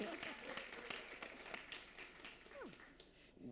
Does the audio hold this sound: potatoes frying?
no